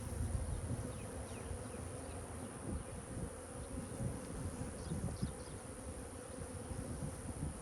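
Honeybees buzz densely around an opened hive in a cow pasture apiary, forming a constant close drone that swells a little as some of the colony grows agitated, with no talking.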